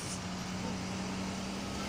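Riding home inside a car, a steady low road rumble and engine hum run throughout with a constant tonal drone, no talking.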